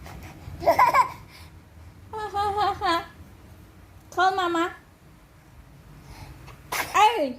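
A baby in a crib sneezes a few times in quick succession, sharp close bursts spaced apart, with soft babbling sounds between them and no adult talk over the sneezes.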